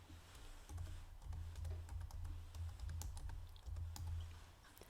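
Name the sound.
typing text on a computer keyboard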